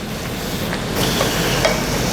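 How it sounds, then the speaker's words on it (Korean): Pork and kimchi stir-fry in a pot with kimchi juice for pork kimchi stew, a steady broadband sizzle with faint scraping against the pot bottom, growing slightly louder midway, with no talk. "고기 육즙이 붙은 거를 다 긁어내가지고 맛있게 조금 볶을게요"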